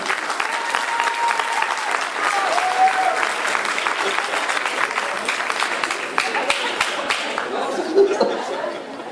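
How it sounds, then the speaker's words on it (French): An audience at a Téléthon charity evening in Villabé breaks into sustained applause, many hands clapping at once with chuckles and murmured chatter mixed in. "on peut les applaudir parce qu'ils sont aussi importants dans le dispositif"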